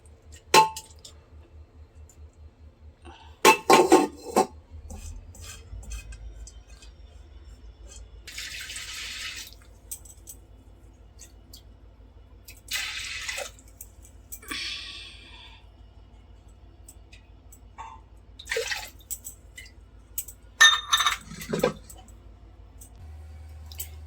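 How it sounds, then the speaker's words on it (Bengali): Red lentils (masoor dal) being rinsed in a home kitchen: water splashes and sloshes in short irregular bursts, with soft drips and squishy handling between quieter pauses. "মুসুর ডালটা ধুয়ে নিচ্ছি ভালো করে"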